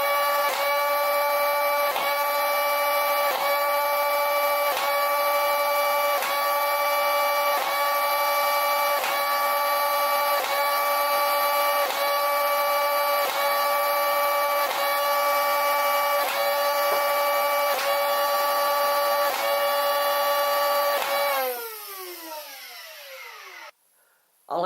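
A modified Nerf Stryfe blaster set to semi-auto whines steadily as its flywheel motors spin, with a dozen or so evenly spaced shots clicking through before the motors wind down and fall quiet.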